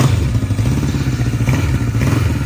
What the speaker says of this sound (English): Starting up this Honda CB750 K6 from